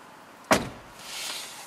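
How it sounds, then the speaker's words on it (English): A car door slams shut once inside a parked car during a head-unit reboot, a sharp close thump followed by a soft fading rustle and faint background hum. "I close the door"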